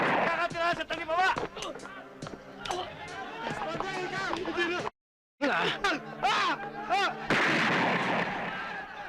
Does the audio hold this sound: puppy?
no